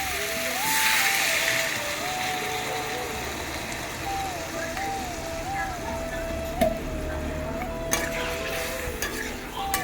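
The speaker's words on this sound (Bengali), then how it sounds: "কষিয়ে নেবো আলুগুলো" Potatoes being sautéed in a pan in a home kitchen give off a steady sizzle with scraping stir strokes, while a vehicle's reversing beeps repeat faintly in the background and a voice talks over it.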